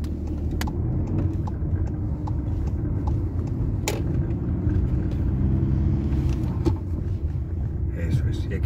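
Car engine rumble fills the cabin at a junction in Sarrià de Ter, Girona, during a driving-test route, steady low drone throughout with brief clicks and a passing car blending in; a voice speaks over it.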